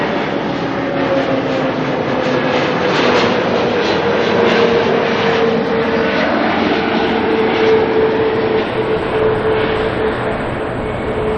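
A Jetstar Airbus A321neo jet lands at Auckland Airport, arriving from Sydney: a steady, loud engine roar with a sliding whine holds throughout, near and continuous, with no voices.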